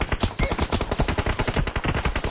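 Rapid automatic gunfire from the mobile battle royale game PUBG Mobile, loud and close, with dense bursts of repeated shots rattling continuously for a couple of seconds.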